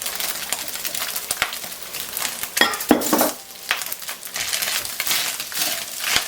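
Onions sweat in a pan with browned beef, a steady sizzle broken by clinks and scrapes of a utensil stirring against the pan, close and fairly loud.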